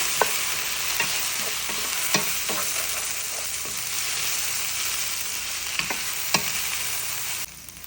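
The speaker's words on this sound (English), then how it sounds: "Now I'm going to add the sliced tomatoes and saute them until they are well done." Sliced tomatoes saute with caramelized onions in a pan, giving a steady broadband sizzle broken by a few sharp spatula scrapes and taps. The sizzle cuts off near the end, with no talking.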